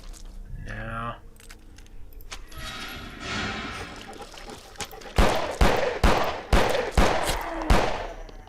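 Gunshots in a haunted PS1 demo horror video game ring out as a run of about six sharp, loud bangs near the end, following quieter shuffling and a brief voice earlier.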